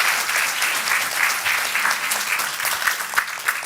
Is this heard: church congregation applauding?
yes